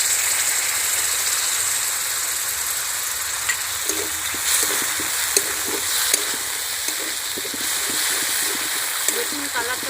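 Whisked sour yogurt goes into spice masala frying in oil for Bengali doi katla fish curry. A loud, steady sizzling hiss runs throughout, with soft stirring clicks and scrapes in the second half.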